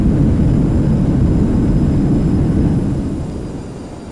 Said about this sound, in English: No thrust reversers. But they work just fine if you arm the damn things.